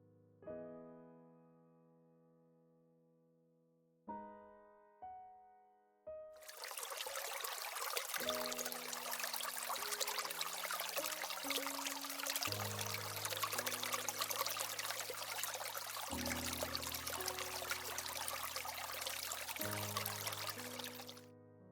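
Water pours and trickles steadily over small moss-covered rocks in an autumn maple setting at night, a continuous wash of flowing sound that starts after a few soft sustained tones and runs under gentle held musical notes.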